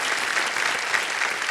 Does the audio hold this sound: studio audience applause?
yes